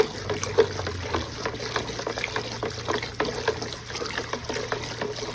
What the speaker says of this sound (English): And then I thoroughly mix the solution.